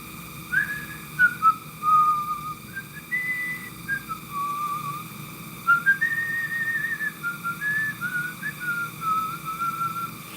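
Someone whistles a slow, wavering tune alone, the notes rising and falling in short phrases over a faint steady hum.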